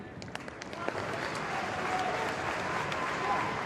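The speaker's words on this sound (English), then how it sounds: "the applause comes for it as we hit the half-hour mark" Applause ripples through a football crowd at an FA Youth Cup quarter-final between Bury U18 and Liverpool U18, a steady broad wash of clapping from the stands with a few sharper claps near the start and faint voices mixed in.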